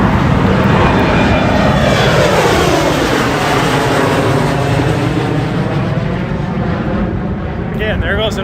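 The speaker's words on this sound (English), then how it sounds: "there goes another plane on this" A propeller airplane passes low directly overhead near a runway, a loud continuous drone that swells and slowly fades over several seconds, with faint wind noise and no talking.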